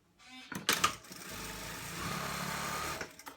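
A sewing machine stitches the side seam of a fleece hoodie: a few short clicks and bursts first, then a steady, close mechanical whir that runs for about two seconds before stopping, with no talk.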